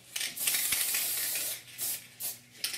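A spray can sprays paint onto a model figure in a few hissing bursts, first one longer continuous spray, then two short puffs and a final brief hiss, close and fairly loud.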